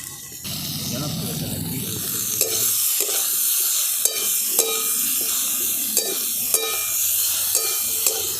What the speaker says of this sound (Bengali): এবারে জলটা মানে শুকনো হওয়া পর্যন্ত একটু ভাজা ভাজা করে নেব।